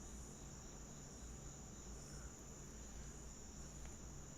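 Steady crickets chirping in a continuous high-pitched trill, moderately faint, with a low hum underneath and no talking.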